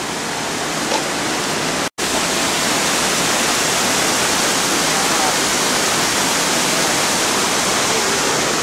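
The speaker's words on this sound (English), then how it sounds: "There's our waterfall." A waterfall near Tarapoto, Peru, roars as a loud, unbroken wash of broadband rushing water close by, interrupted only by a split-second dropout, with no talking.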